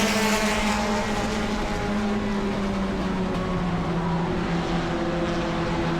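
Bomber class stock cars racing down the back straightaway at New Smyrna, a loud steady roar of several engines with sustained droning tones and no break in the noise.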